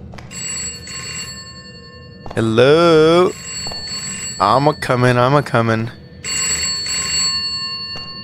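A telephone in a kindergarten-themed horror game rings in bright repeated bursts, loud and close, broken up by stretches where a person talks over and between the rings.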